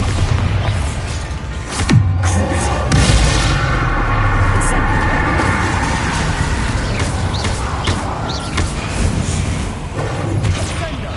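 A Bombarda spell explodes in the video game Hogwarts Legacy, a loud booming blast over continuous dense rumbling battle noise, with a few sharper impacts along the way.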